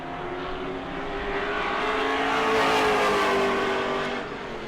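A pro late model stock car on a qualifying lap at New Smyrna, the #47 sliding sideways off turn four, roars steadily as its engine note swells toward a peak and then eases off, heard alone.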